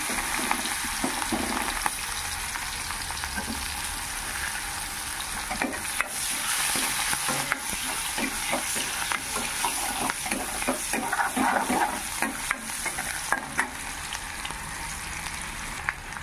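Onions hit hot oil in a pan just used for frying dried fish, hissing in a loud, dense, steady sizzle with frequent crackles and stirring scrapes close by.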